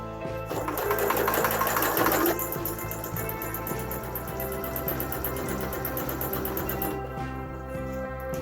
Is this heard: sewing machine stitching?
yes